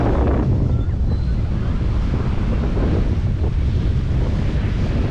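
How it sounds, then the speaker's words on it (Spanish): Strong wind and rough surf at a beach at Playa del Carmen, with a steady, loud roar of crashing waves and gusts buffeting the microphone throughout. "Y el mar está bastante movido. Hay bastante aire."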